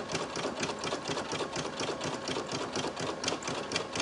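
A single-needle Brother PE800 embroidery machine with a 4x4 hoop stitches a design onto a floppy hat, giving a steady, fast mechanical whirring and needle chatter close by, with no talk.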